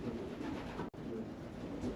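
Racing pigeons cooing softly in a loft, low and faint murmuring calls repeating over a steady background.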